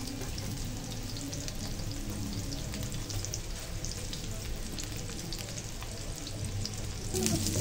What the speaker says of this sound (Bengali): ম্যারিনেট করা মাংসগুলো ভেজে নেব